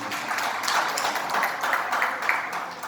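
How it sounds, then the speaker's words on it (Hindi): An audience at a Sirohi trade federation event honouring Covid warriors and blood donors breaks into dense, continuous applause, many hands clapping together at moderate loudness with no talk over it. "तो ऐसे संस्था के लिए तालियां होनी चाहिए"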